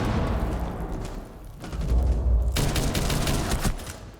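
Gunfire in Rainbow Six Siege, sustained suppressing bursts with heavy booming impacts, loud and close, swelling in the middle then easing off.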